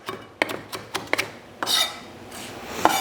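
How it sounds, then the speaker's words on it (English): A knife mincing fresh basil on a cutting board: a quick run of light, uneven chops and taps, close and fairly crisp, followed by a softer scraping rasp of the blade. "we're just gonna give our fresh basil a quick mince"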